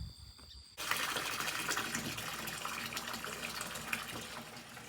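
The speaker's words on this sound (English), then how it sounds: "when I turn the hose on, it's going to backfill into the tank" A garden hose is switched on and steady rushing water backfills into an aquaponics tank, a constant close splashing hiss that starts abruptly and continues.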